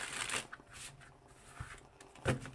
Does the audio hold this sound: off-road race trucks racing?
no